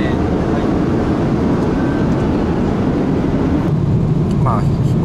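Constant, loud low rumble and hiss inside the cabin of an Aeromexico long-haul flight from Seoul to Mexico City, steady throughout with a faint voice now and then.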